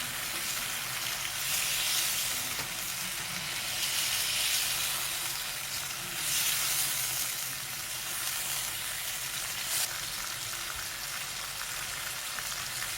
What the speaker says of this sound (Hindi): घी के साथ हमारी चिकन फ्राई होते हुए, तेल के साथ चिकन फ्राई होते हुए